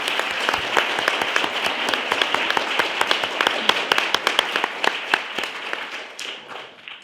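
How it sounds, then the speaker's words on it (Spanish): An audience applauds at a live talk event, with dense, steady clapping that fills the space for several seconds before tapering off at the end. "Un aplauso."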